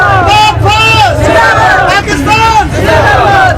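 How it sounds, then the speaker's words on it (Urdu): Crowd at a Pakistan Day rally chanting Pakistan Zindabad slogans, loud rhythmic call-and-response shouts in repeated waves from many voices. "عوام پاکستان زندہ باد کے فلک شگاف نعرے بلند کرتے رہے"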